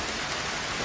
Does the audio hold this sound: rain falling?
yes